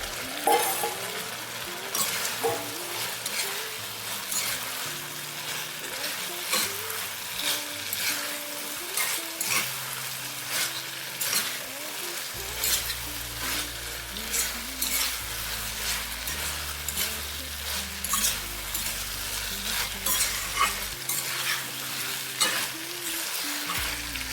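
Fried vegetables are sauteed with spices in a pan for a village-style shukto curry, with a continuous sizzle and frequent scraping stir strokes, with a low hum shifting in the background throughout.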